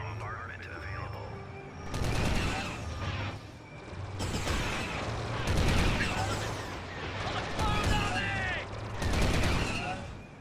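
Autoguns fire in a Star Wars Republic battle game, heard as repeated loud bursts of gunfire and explosive blasts over about ten seconds, mixed with faint game voices and battle noise.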